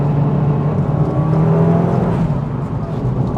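A Mitsubishi Evo VI Rallysport accelerates hard with a loud, steady engine drone and rising whine, heard close from inside the car with no talk.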